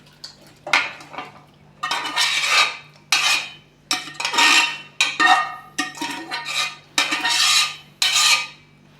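Mutton chops and tomatoes are scraped and spooned into a metal karahi pan, giving a series of sharp clanks and scrapes of utensil on metal in irregular bursts with pauses between, close and fairly loud.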